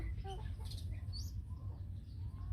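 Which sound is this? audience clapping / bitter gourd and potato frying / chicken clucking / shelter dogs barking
chicken clucking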